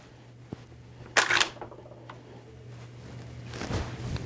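A pump-action shotgun's action is slid closed, giving one sharp metallic clack followed by fainter handling rattles, close and alone.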